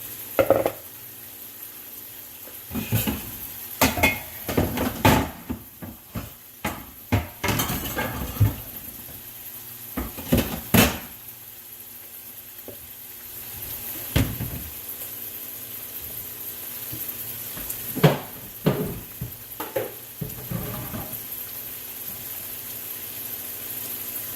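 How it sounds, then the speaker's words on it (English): A pot of keto cabbage soup simmers with a low, steady bubbling hiss, broken repeatedly by nearby clinks, knocks and clatter of cookware and utensils. "it's simmering really nicely"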